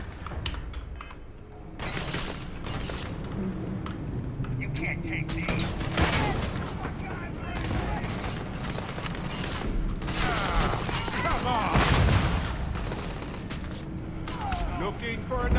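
Rapid gunfire and shooting effects from the video game Starfield crackle in bursts throughout, mixed with game sounds and someone talking over the action.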